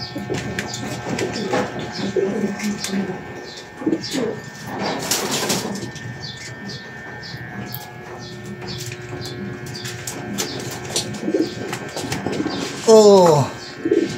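Racing pigeons at a loft coo softly during a derby race, with scattered clatter and a sharper call near the end, while people talk nearby.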